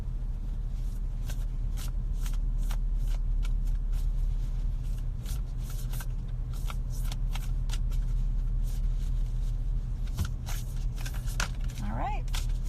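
A deck of cards shuffled over and over in a quiet room, with quick, crisp riffles and taps arriving in steady bursts over a constant low hum, and a brief voice near the end.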